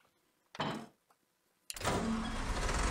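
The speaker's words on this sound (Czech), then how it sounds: "Nastartuje motor" A tractor's engine is started in the Farming Simulator video game: a short mechanical whir, a brief pause, then the engine catches and settles into a loud, steady running rumble.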